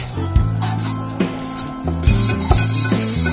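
A spoon stirs brownie mixture with butter in a hot pan, scraping and clinking against the metal in irregular strokes while a steady sizzle runs underneath, close and fairly loud.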